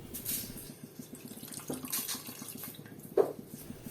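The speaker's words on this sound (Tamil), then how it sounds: "கொஞ்சம் தண்ணி விட்டு அலசிட்டு மறுபடியும் ஊற்றிக்கலாம்" Water is poured and swirled to rinse a cooking pot while preparing goat curry, heard as soft splashing and trickling with a small slosh near the end, fairly quiet and close.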